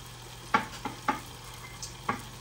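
Shredded cabbage, Brussels sprouts, green pepper and onion stir-fry in a pan, a few sharp utensil taps and scrapes over a faint sizzle, close and otherwise quiet.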